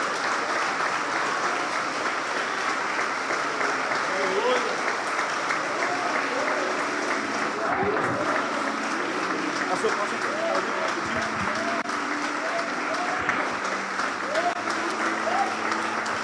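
A congregation gives Jesus a long, warm round of applause, loud continuous clapping from a large group, with voices calling out and talk beneath it.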